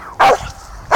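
A dog gives two sharp, close barks about three quarters of a second apart, loud and alone in the brief moment.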